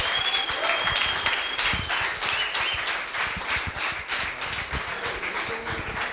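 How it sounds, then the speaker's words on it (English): At a coding bootcamp demo day in Lisbon, an audience claps for the DocPat team, dense lively applause with distinct individual claps and a few whistles, gradually easing off toward the end. "can you put your hands together for the last time for DocPat?"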